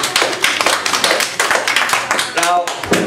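Audience applause at a talk on the American Revolution, a dense run of many hands clapping that carries on steadily, with a brief voice rising through it near the end.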